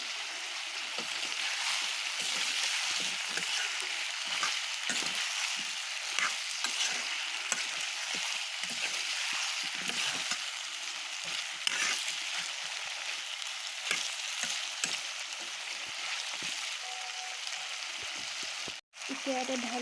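Pumpkin and meat fry together in a pan, stirred with a continuous close sizzle and repeated scraping strokes at an even rhythm, with a brief clatter near the end.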